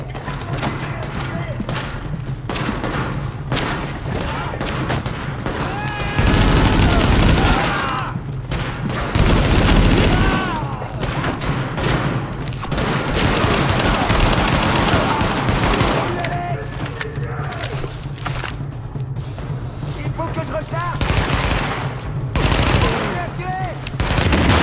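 Bursts of gunfire from a rooftop in the video game Tom Clancy's The Division ring out repeatedly in loud, rattling volleys, mixed with game sounds and a voice speaking over the action.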